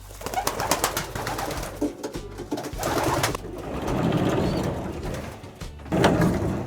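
Pigeons in a pigeon loft coo repeatedly in low, rolling calls, with several birds overlapping nearby and faint flutters and clicks between.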